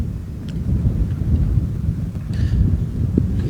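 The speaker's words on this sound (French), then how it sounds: "Il y a tellement de vent que ça tient pas." Strong outdoor wind buffeting a microphone at an athletics training session, a continuous heavy low rumble with occasional gusts, loud and close.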